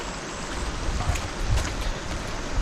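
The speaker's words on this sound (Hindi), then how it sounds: "वहाँ बंद टूटने की वजह से पूरा का पूरा पानी इस खेत से गुजरता हुआ जा रहा है" Floodwater rushes through a farm field after an embankment breach during Cyclone Remal, a dense continuous roar of churning water with wind-like buffeting, steady and loud with no talk.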